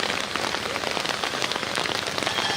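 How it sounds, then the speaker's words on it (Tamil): Steady, dense rain falls outdoors, a close, even patter that fills the short stretch without pause. "கட்டாயம் மழை இருந்துச்சு. இந்த மழைக்காக தான் நம்ம தவம் இருந்தோம்."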